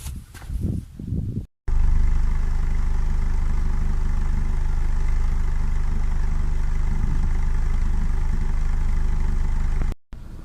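A Ford Fiesta Mk7 with a 1.4 engine idles after a spark plug change, a steady, even engine hum running alone for several seconds, preceded by brief handling noises and cut by short gaps.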